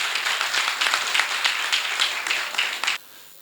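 Audience applause for a poet at a Punjabi poetry event, dense sustained clapping from a large crowd that cuts off abruptly near the end.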